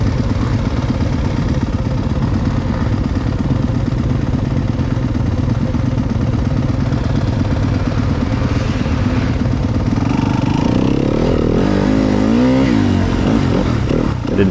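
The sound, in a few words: enduro motorcycle engine revving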